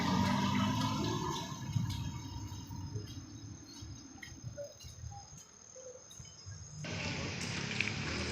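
Water flows continuously from a leak, a steady rushing hiss that carries on throughout, with faint insect-like chirps and a shift in texture near the end.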